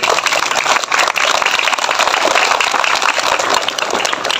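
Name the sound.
audience applauding the ceremony officers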